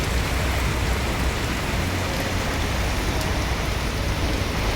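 Heavy rain pours during a motorbike ride on a road trip from Chittagong to Comilla, a dense, steady hiss of rainfall and road wash with no voices.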